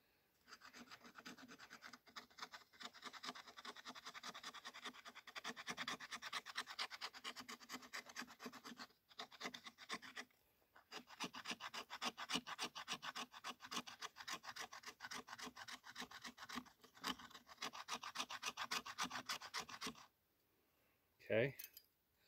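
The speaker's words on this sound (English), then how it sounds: "You can use that spine to get fine shavings." Spine of a survival knife scraping fine shavings from a piece of fatwood, a close, rasping rhythmic scratching in long runs with a brief pause midway, ending in silence and a small knock.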